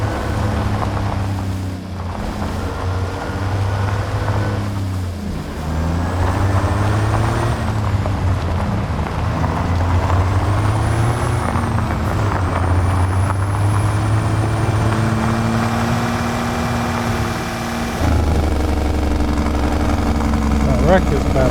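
Simulated heavy truck with an 800-horsepower engine and engine brake in American Truck Simulator, a loud steady diesel drone with shifting harmonic tones as revs rise and fall, continuous throughout with a brief dip near the end.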